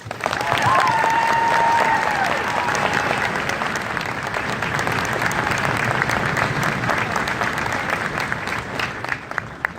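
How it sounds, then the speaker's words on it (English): Sustained applause from families gathered at a soldiers' ceremony, a dense, steady wash of clapping from a large crowd that holds strong for about ten seconds, with a brief whistle or cheer rising near the start. "give all the families here today a round of applause"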